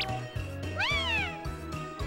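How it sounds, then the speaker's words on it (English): A cat in the PlayStation 2 game Simple 2000 gives a single clear rising-and-falling meow over a steady looping background tune with regular beats. "It is another cat, so you can get other cats."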